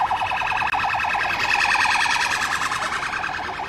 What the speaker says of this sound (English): There's ambulances, there's police cars.